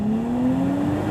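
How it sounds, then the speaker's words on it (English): A 2023 Nissan Z with a manual gearbox accelerates hard, its engine a loud, steady rising drone heard close up inside the car, with no voices over it. "I'm getting second gear grind almost every single time"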